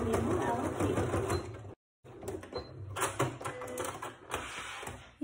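A sewing machine finishes the seam on a double fabric mask holder, a dense mechanical whir that runs close and loud, stopping for a moment before starting again, with someone talking over it.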